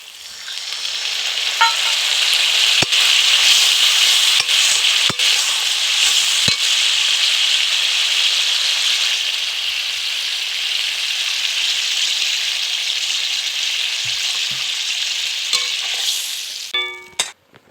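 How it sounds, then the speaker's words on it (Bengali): Water hits a hot pan of egg curry gravy and bursts into a loud, steady hiss that runs for most of the stretch, with a few sharp clinks of a utensil against the pan before fading out. "এবার আমি এর মধ্যে জল দিয়ে দেবো।"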